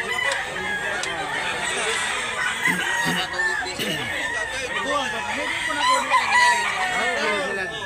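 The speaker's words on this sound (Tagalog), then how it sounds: "Dito tayo sa banda, maraming manok." Roosters crow repeatedly and chickens cluck in a busy outdoor flock at a market in Mantalungon, Barili, Cebu, with people talking nearby throughout.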